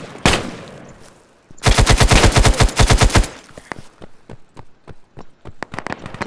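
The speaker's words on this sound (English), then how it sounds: "I heard gunshots" Rapid bursts of automatic gunfire, a single shot then a sustained rattling volley, followed by scattered sharp individual shots in a game-like soundscape.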